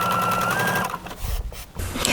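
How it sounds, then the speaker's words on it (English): A sewing machine runs a straight stitch to attach lace to fabric. A fast, close mechanical whir plays for about a second, then stops and gives way to a few soft handling knocks and a brief restart. "I'm just going to stitch a straight stitch down either side."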